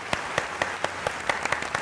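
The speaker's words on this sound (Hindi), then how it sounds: "बहुत सारी तालियां इनके लिए" A studio audience claps for a special guest on a talk show, giving short, moderately loud applause with distinct, fairly regular hand claps over a light crowd murmur.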